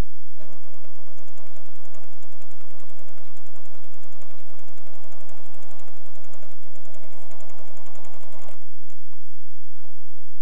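A Pfaff Creative 1475 CD sewing machine stitches a blind hem, a fast, steady mechanical whir that runs continuously for about eight seconds and then stops, leaving a quiet room.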